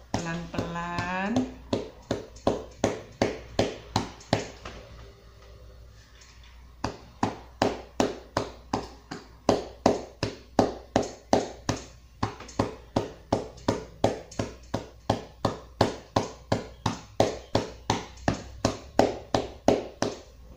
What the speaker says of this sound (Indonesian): Sambil istirahat, boleh kita tepuk punggung seperti ini